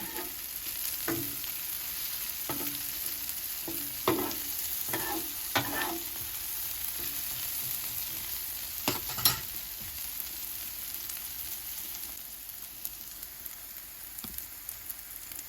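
Onions frying on a Blackstone griddle for Philly cheesesteak, giving a quiet, steady sizzle broken by several sharper scraping and tapping strokes of a spatula against the flat-top.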